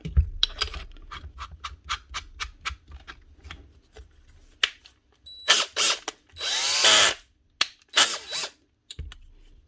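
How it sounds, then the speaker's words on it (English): A power drill whirs in several short bursts, then runs in longer loud pulls as it tightens, with clicks and handling noise between. "Helps if you put it in drill mode, not clutch."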